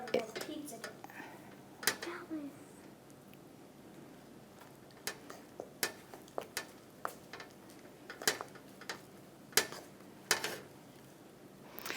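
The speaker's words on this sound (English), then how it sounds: "Stir it around until it becomes doughy like pizza dough" Fork stirring dough in a bowl, a series of quiet scattered clicks and scrapes against the dish, with faint voices in the background.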